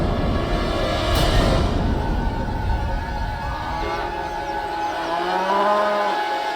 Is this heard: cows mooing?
yes